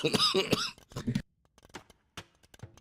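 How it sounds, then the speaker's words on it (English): A sharp burst of coughing up close, followed by a few quieter scattered clicks and rustles. "you guys just heard me cough before I muted the microphone"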